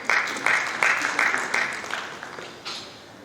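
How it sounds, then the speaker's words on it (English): An audience at an inter-religious council assembly in Uganda claps in a brief burst of hand claps for Bishop Joshua, rhythmic and fairly close, fading out over a few seconds. "Another hand clap for him"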